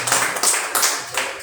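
Four quick bursts of clapping, close and fairly loud, from a church congregation during a sermon.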